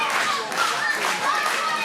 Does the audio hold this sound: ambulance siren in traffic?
no